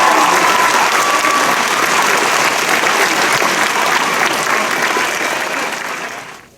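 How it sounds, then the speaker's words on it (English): Audience applause at a senior oratorical competition, a dense, loud, sustained roar of clapping from a large crowd that holds steady and then fades out near the end. "I'd like to please ask you to give another round of applause to all of our"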